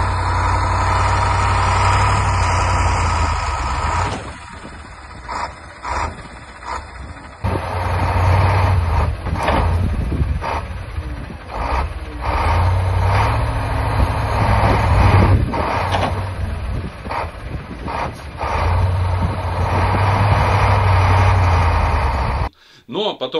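Engines of a rare ZIL 6x6 truck and a KAMAZ truck in snow during loading onto a low-bed trailer, a loud continuous diesel idle and rumble with shifting revs, cut by a brief drop near the end.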